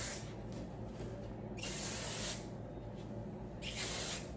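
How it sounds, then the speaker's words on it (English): Two short hissing bursts from an IGK Clear Gloss hair shine spray can, close and quiet, separated by a brief pause. "I'm just gonna use this IGK Clear Gloss Shine Spray"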